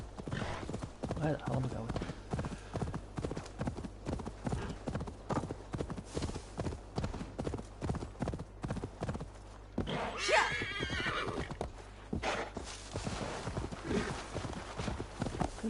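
Horse hooves clip-clop in a steady rapid gait in the Assassin's Creed Valhalla video game, with a neigh partway through, while a player talks over the riding.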